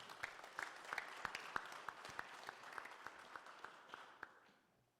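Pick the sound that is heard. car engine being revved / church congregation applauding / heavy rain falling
church congregation applauding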